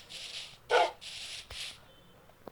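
A dog in a video game gives a few short, sharp barks or yips in quick succession, moderately close, followed by a faint thump, with no talking.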